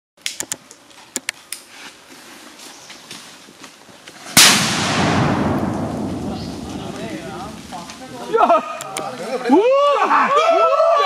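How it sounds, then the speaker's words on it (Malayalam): Firecrackers set off to drive wild elephants back into the forest near Punnekkad: several sharp pops, then one loud booming burst that echoes and fades, followed by people shouting. "പടക്കം പൊട്ടിച്ചും ഒച്ച വെച്ചും ആനകളെ ഭയപ്പെടുത്തി ഓടിക്കുകയാണ് ലക്ഷ്യം"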